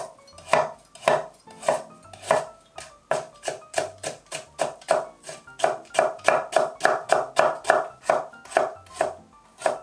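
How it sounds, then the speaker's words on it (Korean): A knife cuts onion and carrot into fine strips on a cutting board, with a steady run of crisp, close chops: a few slower strokes first, then a fast, even rhythm of about two to three cuts per second. "양파는 곱게 채 썰어주세요. 당근도 곱게 채 썰어주세요."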